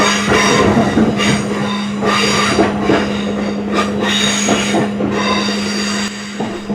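Train departing Crewe station seen from the driver's cab, with loud continuous rolling rumble, a steady tonal hum, repeated wheel clatter over rail joints and occasional squeal.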